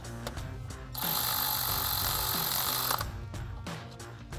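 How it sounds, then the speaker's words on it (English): A ratchet fitted with a 13 mm socket tightens a stud on the fuel rail of a RAM 1500, giving a close, sustained burst of rapid clicking with short mechanical ticks and clunks before and after. "we'll thread that back into our fuel rail and tighten it down with a 13 millimeter socket"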